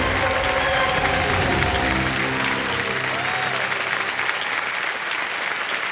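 A game-show studio audience bursts into loud, sustained applause that holds steady for several seconds before easing off slightly, with faint voices mixed in.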